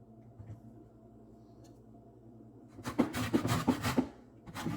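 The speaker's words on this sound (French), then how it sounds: "On va prendre une orange et puis on va enlever juste le zeste." An orange has its zest grated off in a quick series of close, scratchy rasping strokes after a quiet opening lull.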